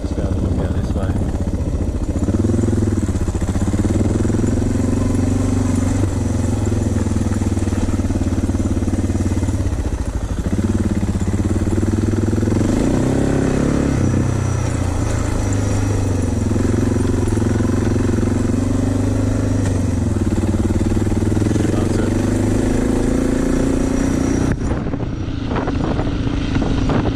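A big single-cylinder DR650 motorcycle engine thumps along steadily at idle and low revs, close and loud, with a few rises in pitch before it cuts off near the end.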